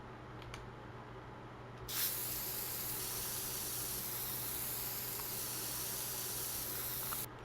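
Sustained broadband spray hiss from spraying dirt in The Sims 4, starting abruptly and holding steady at moderate loudness for several seconds before cutting off, with no talk over it.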